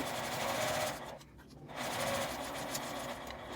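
A domestic sewing machine runs steadily while stitching fabric for a cutlery case, a close, fast whirring hum that pauses briefly midway before resuming at the same pace.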